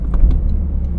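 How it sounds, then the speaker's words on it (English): Toyota GR Corolla engine briefly blipping during a rev-matched downshift, a short, close, loud low rumble with no talk. "See what about the rev match downshifting."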